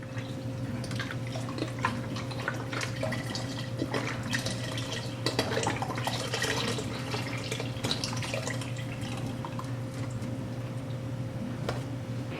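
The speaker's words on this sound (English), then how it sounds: "now I'll finish pouring in the 1 quart of beef broth" Beef broth pouring and splashing into a pot, with scattered drips and small splashes over a steady low hum, fairly close.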